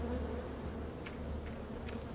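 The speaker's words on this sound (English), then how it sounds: "Oh, they got bees!" Bees in the video game Deliver Us Mars give a steady, moderate droning buzz that runs continuously through the scene, with a few faint higher chirps briefly rising above it.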